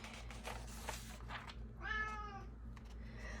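A house cat gives one clear, drawn-out meow partway through, close and fairly loud, with quiet room noise before and after and no talking.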